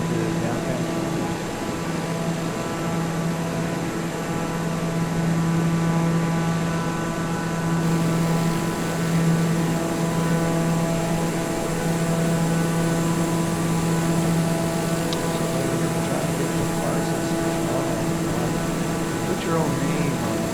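A Daher TBM 930 turboprop drones steadily in flight over downtown Toronto in Microsoft Flight Simulator 2020, a continuous engine hum with a faint whine throughout.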